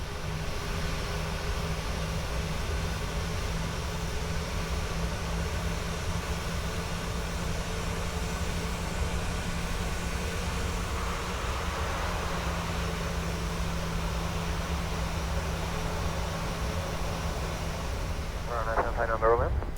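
Boeing 737-800BCF cargo jet taxiing, a steady engine drone and broadband rumble heard from inside, with a brief warbling tone near the end.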